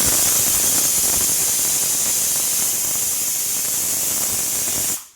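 A pressure cooker of boiling peas lets out a loud, steady, continuous whistle and hiss that holds for about five seconds and then cuts off abruptly; no one speaks.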